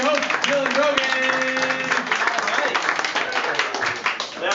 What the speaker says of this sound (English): thank you for that enthusiastic clap